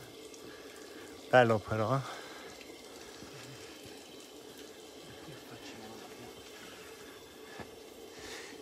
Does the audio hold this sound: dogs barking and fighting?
no